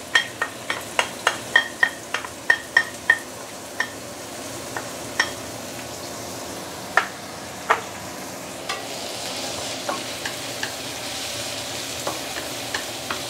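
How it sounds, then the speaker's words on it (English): Garlic, ginger, shallot and coriander roots sauté in a claypot: a string of sharp, evenly spaced spatula taps at first, then sparser scrapes over a soft, steady sizzle. "So we're going to start with sauteing the fresh ingredients here."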